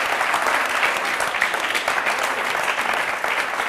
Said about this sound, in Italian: vogliamo fare un applauso